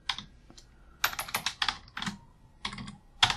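Typing on a computer keyboard while entering a contact name in accounting software, a close series of quick, uneven key clicks in short bursts separated by pauses.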